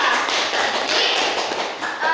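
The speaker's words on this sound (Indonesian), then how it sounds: "Nah, tepuk tangan dulu kita." Fourth-grade schoolchildren clapping together in an Indonesian primary classroom, a dense, steady burst of close hand claps lasting a couple of seconds with little talk.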